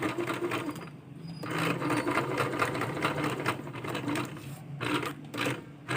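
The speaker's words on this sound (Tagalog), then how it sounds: "Pabalikin po natin para hindi siya bumuka po yung tahi. Kailangan iba-back stitch natin." A sewing machine back-stitching a blouse seam whirs in a fast steady mechanical rattle, close and loud, pausing briefly and changing pace as it reverses.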